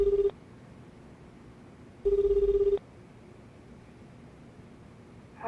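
An outgoing phone call in the video game Lost Judgment gives two evenly spaced electronic ringback bursts with a quiet pause between them, clear and alone.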